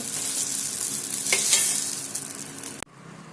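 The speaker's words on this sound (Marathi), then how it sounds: "कच्चा लसूण झालाय मिरच्या भाजून काढून घेते" Green chillies and garlic roast in a hot pan, giving a steady close sizzle with stirring that swells briefly before cutting off sharply near the end.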